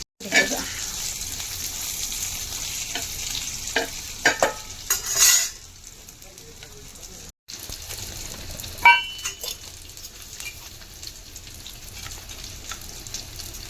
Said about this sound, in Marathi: तेल टाकते मी. त्यानंतर ते थोडीशी हरभऱ्याची डाळ.